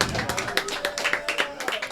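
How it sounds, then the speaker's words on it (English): Audience applause during an open mic comedy show, a short burst of scattered clapping close by with some talk over it. "A little applause break."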